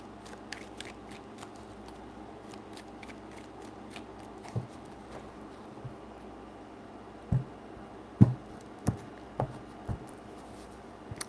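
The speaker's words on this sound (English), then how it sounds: "3 shuffles." Tarot cards being shuffled by hand, soft papery riffles and light slaps in quiet, scattered bursts with a few sharper taps toward the end.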